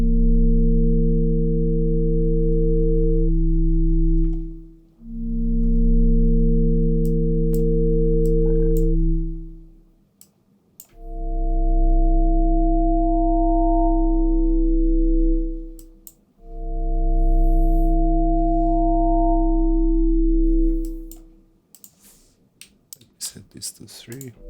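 Additive synthesis pad with stacked sustained sine tones, playing long held chords in four swells separated by brief gaps, smooth and loud, with clicks and noise creeping in near the end.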